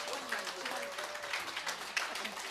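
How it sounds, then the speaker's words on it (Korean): Sustained, dense applause from a large indoor audience standing and clapping during a flower bouquet presentation at a church gathering, steady and fairly close, with no talk over it. "마지막으로 기립박수 하셔서 박수 부탁드립니다"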